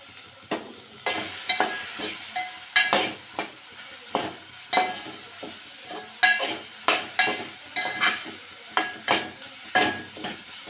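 Soya chunks fry in a pan with a steady close sizzle, while a utensil stirs and scrapes through them in a run of sharp, irregular clacks against the metal.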